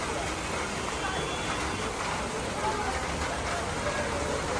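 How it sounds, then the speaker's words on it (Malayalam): Heavy rain pours down on a trip toward Palani, a dense, even hiss of falling drops that stays constant, with faint voices murmuring underneath. "ഇവിടെ നല്ല അടിപൊളി മഴയായിട്ട് നല്ല മഴയത്താണ് ഞങ്ങളിപ്പോ ഇവിടെ ഇറങ്ങിയത്"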